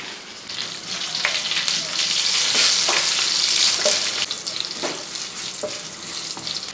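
Fenugreek seeds, dried red chillies and curry leaves sizzle loudly and steadily in hot oil while a taro curry is being made, with a bright crackling hiss and occasional stirring clicks.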